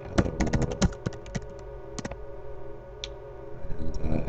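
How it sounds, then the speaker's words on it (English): Quick bursts of keystrokes on a computer keyboard while typing a chat message in the space game Vendetta Online, crisp close clicks in uneven runs separated by short pauses. "all you have to do is push T, and you can type anything you want"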